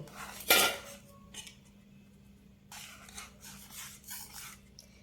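Cut pieces of white dhokla are lifted into a serving dish with a sharp metal scrape and clink at the start, then softer utensil rubs and taps against the dish, close and clear, without talk.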